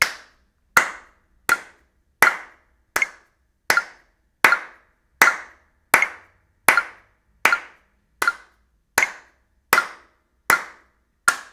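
Single pairs of hands clap a steady beat in time with a metronome during a drumset lesson, each sharp, close clap followed by a short room decay, about fifteen evenly spaced claps alone.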